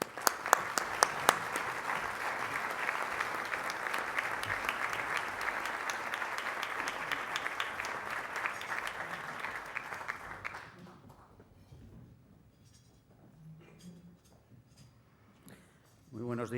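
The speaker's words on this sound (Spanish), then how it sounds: "Y para eso le paso la palabra con un aplauso de bienvenida." An audience at an innovation forum in Spain gives welcoming applause, dense and sustained for about ten seconds before fading out, then a voice begins speaking at the end.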